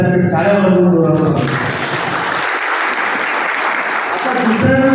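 Clapping crowd at a pensioners' meeting, a loud sustained burst of applause from many hands that follows and is briefly overlapped by a voice at the start and end.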